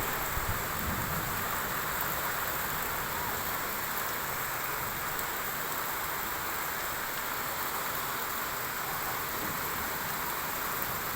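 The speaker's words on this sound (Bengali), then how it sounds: "অনেক দিন পর বৃষ্টিটা চলে আসলো," Rain pours steadily over rooftops after a long hot spell, a dense, uniform wash of patter that stays constant and close throughout.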